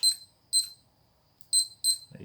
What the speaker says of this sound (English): I didn't set the alarm